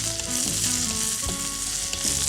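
Okra and raw mango curry frying in oil in a pan gives a steady, close hiss and crackle, with soft stirring knocks and a faint tonal hum in the background, no talking.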